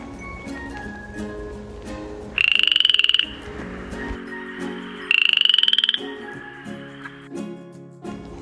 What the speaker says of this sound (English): Poison dart frog.